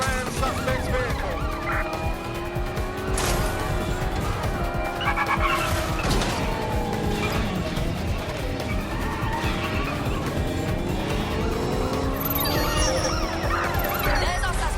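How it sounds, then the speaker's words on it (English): Car chase in Watch Dogs: Legion with a vehicle being rammed: continuous engine roar, tire skids and wailing police sirens layered together over many seconds, with an impact thud partway through and faint voices. "Preparing to ram suspect's vehicle."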